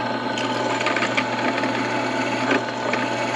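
A drill bores a hole through an axle nut for safety wire, producing a steady, close grinding whine that runs continuously with slight fluctuations and no voices.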